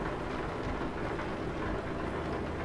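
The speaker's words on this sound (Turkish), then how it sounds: "Fena yağmur ya ya." Heavy rain pours in a truck driving game, Euro Truck Simulator 2, as a dense, steady hiss over a low rumble, continuous and without breaks.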